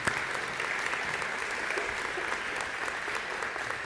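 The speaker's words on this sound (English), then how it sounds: "So we can clap for that." Steady audience clapping at a nursing pinning ceremony, a brief even burst of applause from a crowd, moderately loud with no voices above it.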